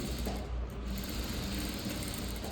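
Sewing machine stitching decorative front dots on blouse fabric, a steady close mechanical whir that continues without a break.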